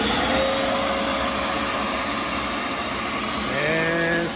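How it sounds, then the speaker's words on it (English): A loud vacuum cleaner in a woodworking shop drones steadily with a high whine, its pitch shifting briefly near the end as another motor tone joins in. "Turn on the vacuum cleaner."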